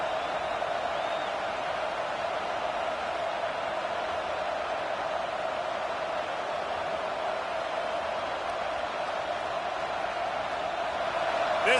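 Stadium crowd at a college football game roars steadily from a distance, a dense sustained wash of cheering and noise with no clear breaks.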